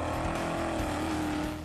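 The Peacemaker, a vehicle from the Mad Max film, is powered by a blown 502 big-block engine rated at 1,000 horsepower. It gives a loud, steady, rumbling idle close by, with no voices.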